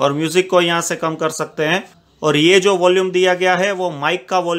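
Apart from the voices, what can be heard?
No everyday noises stand out.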